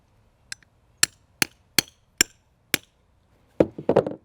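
A chisel is driven into a tree trunk to cut a slot for a bridge graft on a vole-damaged tree, making six sharp, separate wooden knocks at a steady pace, close and clear, then a brief scraping burst.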